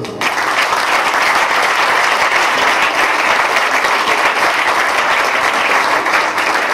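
A church congregation applauding to acclaim the Lord, a dense, steady wash of many hands clapping at full volume throughout, loud and sustained with no pause.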